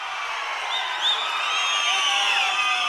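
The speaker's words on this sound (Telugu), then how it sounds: "గట్టిగా చప్పట్లు కూడా చెప్పండి" A large crowd roars at an outdoor political rally in Markapuram for Chandrababu Naidu, with a loud, sustained wash of cheering, whistles and clapping that fills the whole stretch.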